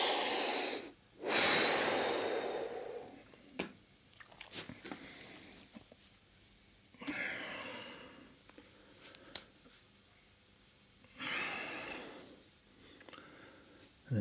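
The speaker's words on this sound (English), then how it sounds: "take some decent breaths of air" A man sitting down to rest after a set of exercise reps breathes deeply: several long, loud inhales and exhales spaced a few seconds apart, close to the microphone, with faint small noises between breaths.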